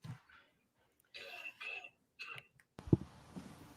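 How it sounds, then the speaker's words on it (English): A few breathy, throaty bursts like coughing or throat clearing come close to the microphone, separated by short silences, followed by a sharp thump. "I cough, but you go ahead."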